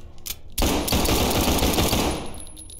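Sustained burst of rapid automatic gunfire in the SCP: 5k video game, starting abruptly after a couple of single shots and rattling loud for about two seconds before tailing off.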